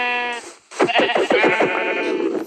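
Sheep in the Minecraft video game bleat in a short burst of wavering cries, loud and close, with no talking over them.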